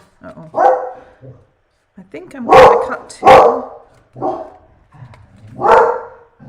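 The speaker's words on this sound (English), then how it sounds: "Sorry, my dog." Dog barking in a home craft room, several loud close barks spaced irregularly across the span while a person talks over them.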